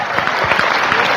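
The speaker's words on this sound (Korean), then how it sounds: "박수 한번 주세요." A short burst of audience applause at a lecture by a city mayor, dense and loud, steady clapping with no pauses.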